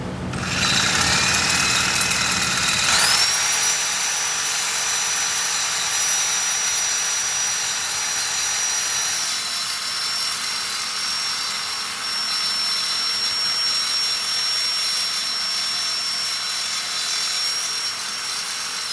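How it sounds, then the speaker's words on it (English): A power saw cuts through steel on the frame of a 1963 Pontiac being repaired, a loud, harsh, continuous high-pitched grinding whine that carries on steadily with a thin squealing tone riding above it. "So let's get the saws all set up and get this cut up."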